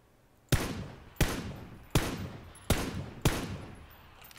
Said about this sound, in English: How did you like that shooting